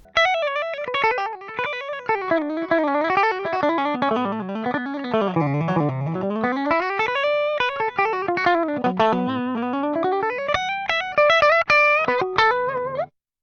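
A heavily distorted electric guitar plays a fast, continuous melodic line with bends and slides, loud and sustained throughout.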